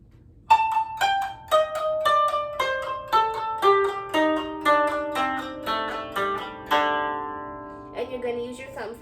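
A koto plays a quick descending glissando across its strings from string 13 to 2 in the Hana Ikada first part, then single plucked notes ring out clearly and decay, solo and close.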